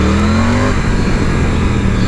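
A Triumph Tiger 900 motorcycle engine revs hard and close, its rising tone giving way to a steady, loud roar that fills the whole stretch.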